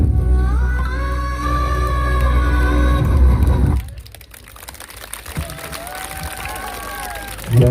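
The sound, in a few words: audience applause after a dance performance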